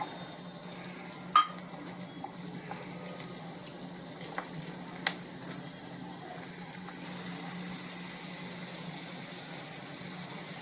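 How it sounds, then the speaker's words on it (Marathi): Steady sizzling of garlic frying in hot oil, a continuous crackling hiss with a few sharp pops and clinks early on, no voices. "आपण कडल्यामध्ये जी फोडणी केली ह्याच्यात आधी पहिली लसूण घातली"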